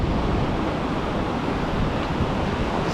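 Surf waves wash and pull back along a beach during surf fishing, a steady broadband roar with wind rumble throughout, close and continuous.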